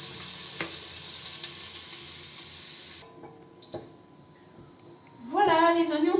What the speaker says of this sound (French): les oignons que nous avons découpés. Et les faire revenir doucement